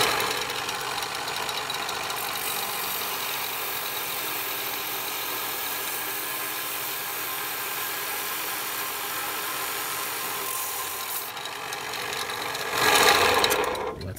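A lapidary saw slices through a geode, producing a steady, continuous grinding whine with a constant motor hum, and a louder harsh surge near the end as the blade breaks through the stone.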